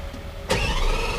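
Lamborghini Aventador engine starting, a quiet lead-in then a sudden loud catch and bark as it fires, settling into a rich, rumbling idle.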